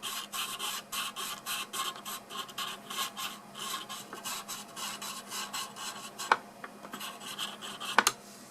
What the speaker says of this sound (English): I'm just rocking the nib back and forth along the different writing angles to try and smooth out any rough corners that I may have.